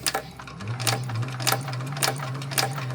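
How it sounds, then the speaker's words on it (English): Sewing machine stitching an EVA foam bag, heard as a low steady motor hum with rhythmic needle clatter and periodic sharp clicks, close and moderately loud, no talking. "And then you go ahead and stitch in the center."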